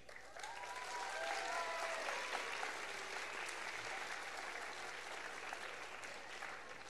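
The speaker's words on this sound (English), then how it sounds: "So let's give a round of applause to Miss Pernard Brace" A crowd applauds at a winter concert, dense steady clapping swelling early then holding, with a few faint whoops or voices rising above it.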